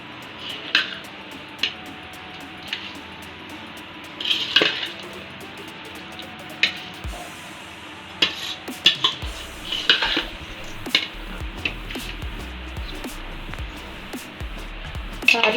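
Soaked rice goes into a pan for chicken fried rice, with metal clinks and scrapes of stirring, spoon taps on the pan rim and a soft rustle of grains, scattered through the clip without talk.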